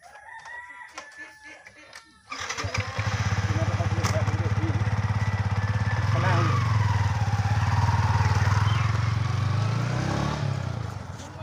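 A Yamaha R15 motorcycle engine starts up and runs loudly and steadily at close range, its drone holding for about nine seconds.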